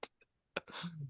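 A woman sneezes once, close and fairly loud, after a short intake of breath and a few faint sounds, followed by a brief trailing voiced tail.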